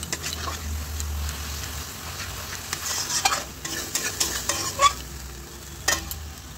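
A mustard, poppy seed, ginger and chili paste with a little turmeric fries in oil with a constant soft sizzle while a spoon scrapes and stirs through it in irregular bursts.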